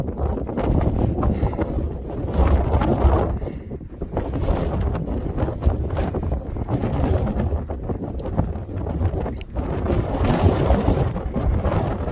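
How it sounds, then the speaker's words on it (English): Strong wind buffets the microphone on the exposed summit of Little Baldpate Mountain along the Appalachian Trail, a steady loud roaring rumble with gusts rising and falling throughout. "It's pretty windy."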